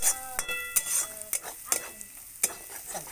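Vada pav masala roasts in oil in a pan over a wood-fired chulha, a close sizzle punctuated by repeated spoon scrapes and clinks at an uneven rhythm, with no voices.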